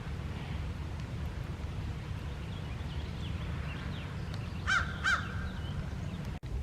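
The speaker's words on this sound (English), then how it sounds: "I always see a lot of crows up here." Two quick caws from a crow ring out some distance away in Jefferson Memorial Forest, standing alone against a steady low background hum.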